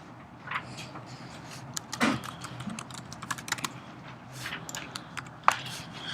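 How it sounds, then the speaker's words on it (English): Computer keyboard typing, a quick irregular run of light clicks and key taps close to the microphone, with a few louder strikes and no talk. "So let's type that in there."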